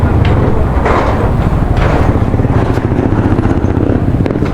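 A motorcycle is wheeled or ridden indoors, its engine a steady, loud low rumble running throughout with no clear pauses.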